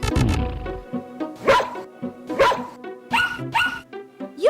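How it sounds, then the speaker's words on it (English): A dog gives a string of loud, close barks and yips in an uneven rhythm, with whimpering tones between some of the barks. "Dogs say bow, roar. They bark. So dear dog, bark."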